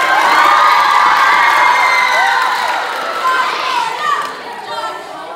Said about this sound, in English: I guess let's give a round of applause for John Cordell Herringer.